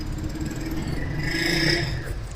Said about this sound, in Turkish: motosiklet geçiyor aşağıdan